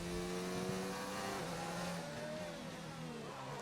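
Formula One car engine in the F1 2019 racing game, Lewis Hamilton's car on medium tyres approaching, a steady loud high-revving whine with pitch gradually shifting as it draws nearer, no talk.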